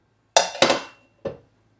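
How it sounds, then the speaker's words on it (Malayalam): A pressure cooker being opened after cooking a Kerala koottu curry, with three quick metallic clinks of lid and pot, two close together and then a softer third, near and alone in a quiet kitchen. "നമുക്ക് കുക്കറൊന്ന് തുറന്ന് നോക്കാം."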